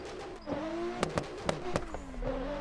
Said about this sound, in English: This car's so loud.